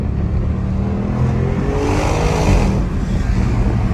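Audi RS7 with exhaust valves open, accelerating hard, heard from inside the cabin with the windows down: a loud, continuous engine roar and exhaust drone that builds and swells for several seconds with no voices.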